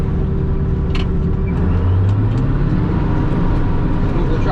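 Silage chopper engine running steadily while harvesting corn rows, a loud continuous low rumble with a brief rise in pitch midway, no talk over it.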